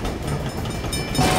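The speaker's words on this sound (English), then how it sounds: "train's coming through!" A cartoon train rumbles past close by, a dense continuous roar of wheels and carriages with a brief rise in loudness near the end.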